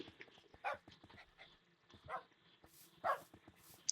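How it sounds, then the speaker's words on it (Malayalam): Faint, sparse Minecraft dog barks and yips sound at intervals, about four short bursts over a quiet, soft background. "ഈ ഐലൻഡിൽ ധാരാളം ഡോഗ് ഉണ്ട്"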